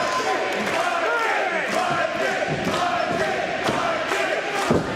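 Wrestling crowd at the Camp Withicum Armory rallies behind Mikey O'Shea during a tag team title match, a continuous roar of cheering and chanting voices with scattered louder thumps.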